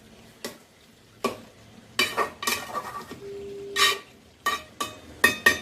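Chicken cooking in a pan of thick gravy gives intermittent stirring scrapes and clinks of a utensil against the pan, with soft sizzling between bursts, close and fairly loud.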